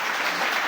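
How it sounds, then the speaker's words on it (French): A congregation at a first water baptism held by an AD church annex in Détroya, Zoukougbeu, bursts into loud, dense applause in a brief, steady wash of clapping. "Est-ce qu'on peut les acclamer fortement?"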